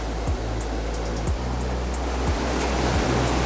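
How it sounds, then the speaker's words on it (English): A steady, loud wash of rushing water from a waterfall fills the whole stretch, broadband and unbroken, with a few low thumps of wind or handling noise on the microphone. "So this is the waterfall."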